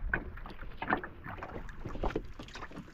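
A small fishing boat moves on open water, giving a steady outdoor wash of water and wind noise with irregular splashes and knocks, fairly close and without speech.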